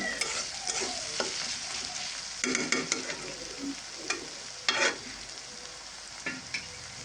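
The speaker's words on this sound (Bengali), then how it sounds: "এই লবণটা দিয়ে পেঁয়াজটা ভাজলে পেঁয়াজটা তাড়াতাড়ি ভাজা হয়" Onions fry with salt in a pan, a continuous sizzle broken by repeated scraping stirs and louder bursts as the pieces are turned.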